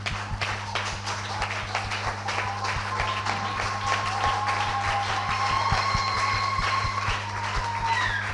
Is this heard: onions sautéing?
no